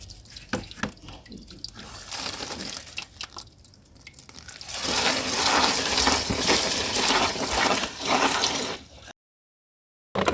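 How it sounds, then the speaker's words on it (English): Water poured over paper bedding in a worm bin bucket, first scattered drips and splashes, then a steady, louder pour lasting several seconds before stopping abruptly. "I'm going to damp the paper."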